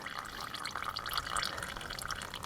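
Thin, watery engine oil drains from a 2004 VW Passat during an oil change, making a faint, steady trickle with soft drips and splashes into a pan below, close by and without talk.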